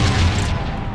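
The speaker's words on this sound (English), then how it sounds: "He threw a grenade at me." Grenade blast in the World War Zero (Iron Storm) shooter game, a loud booming burst with rumbling, crackly low end that fills the whole second and fades slightly.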